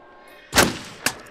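Two gunshots fired in the horror game Until Dawn, the first a loud booming blast and the second a sharper, shorter crack about half a second later.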